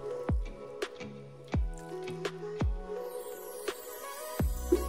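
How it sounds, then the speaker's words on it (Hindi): Water poured a little at a time into a fruit basket turned plant pot, filled with soil topped with a layer of cow dung. It comes as a few separate wet splashes and drips, close and fairly quiet, with no talking. "अब हम इसमें थोड़ा सा पानी डालेंगे।"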